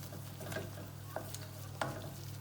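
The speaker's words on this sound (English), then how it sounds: "I'm just making sure the flour and the margarine are cooked through." A flour and margarine roux bubbles quietly in a pan over low heat, with faint soft pops and a few clicks against a steady low hum.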